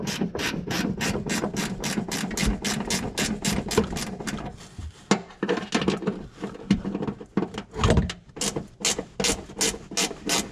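A ratchet wrench turns 11 millimeter nuts on a Cobra car, giving rapid, steady, close-up clicking with brief pauses and some rubbing, with no talking.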